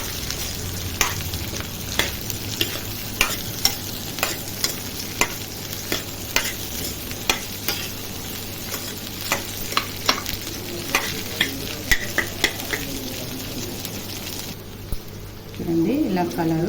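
Sweet corn frying in ghee for masala sweet corn, stirred with a spoon that scrapes and taps in a quick, steady rhythm over a constant sizzle, while a voice talks throughout.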